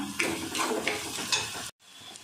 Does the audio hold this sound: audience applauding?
no